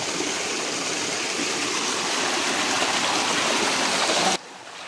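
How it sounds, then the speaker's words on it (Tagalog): Water pours from a stream at its source at Sitio Amaling, a continuous close rushing and gurgling flow that drops off abruptly near the end. "Narating din namin yung pinanggagalingan ng tubig dito sa Sitio Amaling."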